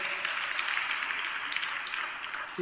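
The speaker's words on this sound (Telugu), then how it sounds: "చప్పట్లు కొడదాం అందరం గట్టిగా" Congregation clapping loudly in a church service, a steady wash of many hands clapping throughout, with a brief voice at the very end.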